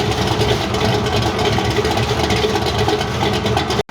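A 1965 El Camino with a 400 small block, ported heads and intake, high compression and a lumpy cam idles loud and close, a steady dense rumble with no break until a sudden cutoff just before the end.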